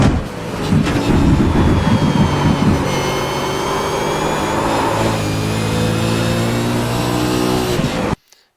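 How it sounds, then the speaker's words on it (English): Car engine accelerating hard on a race track in fourth gear, loud and close, with a steady rising whine and strong low rumble throughout, cutting off abruptly near the end. "I'll downshift into fourth gear here."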